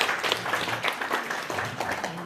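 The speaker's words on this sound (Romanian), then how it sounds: "și vă rog să-l aplaudați." Audience applauding a guest introduced as a newspaper patron and nationally known journalist at an indoor event, a steady wash of clapping with some voices mixed in.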